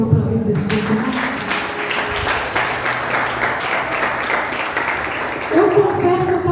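A church congregation applauds loudly and continuously, a steady dense clatter of many hands filling the room, with music and tones sounding underneath the clapping.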